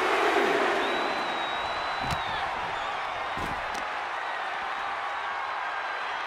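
A wrestling video game crowd roars in a steady, broad cheer throughout, with a few faint whistles and sharp impact thuds rising over the din.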